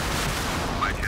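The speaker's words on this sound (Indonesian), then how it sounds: "Jadi meriam otomatis." Automatic cannon firing in the Modern Warships naval combat game, a dense continuous barrage of rapid shots filling the whole moment, loud and unbroken with a brief rising tone near the end.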